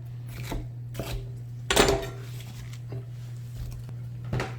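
Knife cutting seeded red bell pepper into 2.5 cm cubes for chopsteak, a few separate crisp chops on a board with one louder thunk in the middle, close and alone.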